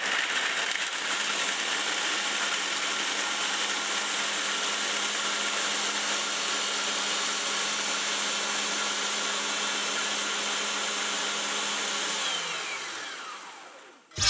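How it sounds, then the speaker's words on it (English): A food processor blitzes biscuits for a cheesecake base, a loud, continuous motor whir with a gritty rattle that runs steadily for most of the time before winding down and stopping near the end. "we're going to blitz the biscuits in the food processor"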